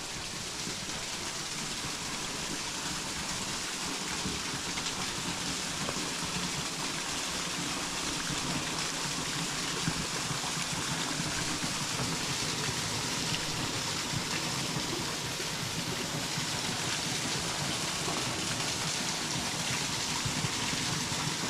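Hector Falls, a waterfall, sends flowing water in a dense, loud, unbroken rush that stays constant throughout.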